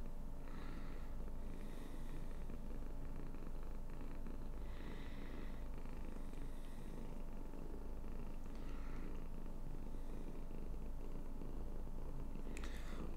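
A cat purring softly and continuously, close to the microphone, low and rhythmic with faint breathy rises throughout, no voices present.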